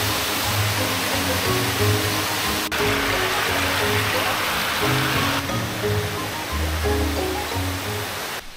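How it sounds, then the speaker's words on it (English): A constant broadband rush of falling water from Gemini waterfall on Siquijor, Philippines, roars nearby, steady and loud, with faint voices and a low hum underneath. "This waterfall right here is Gemini."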